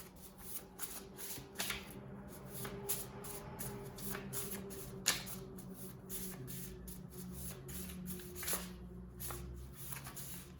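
Tarot cards shuffled steadily and close up, a continuous run of soft riffling flicks and slaps over a faint background hum, with no voices.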